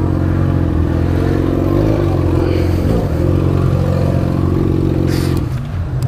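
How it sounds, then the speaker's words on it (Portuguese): A Honda CB1000 motorcycle idles with a loud, steady, rumbling engine drone close by in street traffic, then is accidentally switched off. The hum cuts out near the end, leaving a brief clatter. "desliguei a moto sem querer"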